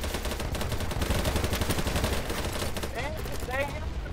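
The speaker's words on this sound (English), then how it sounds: "I'm laying down cover fire" Dense rapid gunfire from automatic weapons rattles continuously in the BattleBit battlefield shooter, with overlapping bursts and a few whistling sounds near the end.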